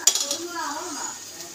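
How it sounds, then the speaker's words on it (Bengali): Chow mein noodles drop into a pan of fried cabbage and carrots, starting with a clink of utensil on metal, then a soft, steady rustle and faint sizzle as a voice talks over it. "তো এইবারে আমি চাউমিনটা দেবো।"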